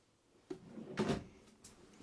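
Dresser drawers in a 2023 Sierra 400BH RV slide open and shut, giving two soft knocks about half a second apart followed by a faint scrape, close and fairly quiet.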